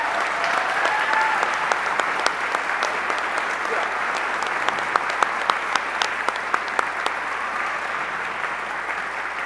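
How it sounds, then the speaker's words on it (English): Audience applause for a high school band at a concert, a loud dense clapping wash that swells early and then tapers gradually, with sharp individual claps standing out near the end. "Give them one last round of applause for these kids"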